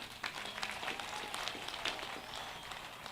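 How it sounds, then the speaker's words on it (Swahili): A crowd at a political rally applauds the President, faint, scattered clapping sounding distant and thin for about three seconds. "President apigwe makofi."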